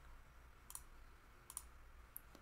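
Three faint, sharp mouse clicks spaced about three-quarters of a second apart, set against a quiet room hum while working in Tableau software.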